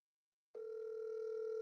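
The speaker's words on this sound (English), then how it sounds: "Answer this phone, Joker." A telephone tone sounds during a call, starting abruptly after a short silence and then holding as a steady, loud, unbroken electronic tone to the end.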